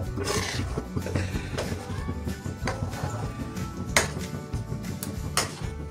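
Buttermilk curry (mohi kadhi) is stirred in an iron pot, with a spoon scraping and knocking against the metal in irregular clinks over a continuous simmering, bubbling background, with no talk.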